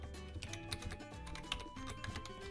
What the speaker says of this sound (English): click enter on your keyboard